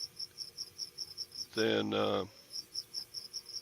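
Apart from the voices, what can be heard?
cricket chirping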